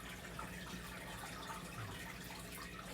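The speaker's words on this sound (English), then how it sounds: "I'm just pouring my cheese into my pan" Cheese sauce poured into a pan for a soul food dinner, giving a soft, steady liquid pouring and sloshing sound, faint and close, with no talking.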